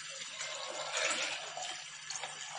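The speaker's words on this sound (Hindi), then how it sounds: "इसमें पानी ऐड किया तकरीबन हाफ के जी" Water poured into a pot of falsa fruit for homemade juice, a steady close splashing pour running alone for a few seconds.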